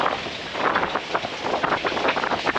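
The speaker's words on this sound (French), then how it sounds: "il fait du 18 nœuds de vent, du 20 nœuds en rafale" Steady, loud wind of about 18 knots, gusting 20, buffeting the microphone at sea, a broad rushing roar with gusty surges throughout and no voices.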